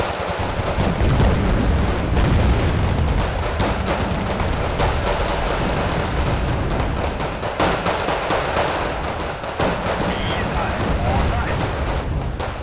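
Machine gun fire in the strategy game Wargame: Red Dragon, a relentless, dense clatter of rapid bursts that keeps going for the whole stretch, loud and close, with heavier blasts mixed into the din.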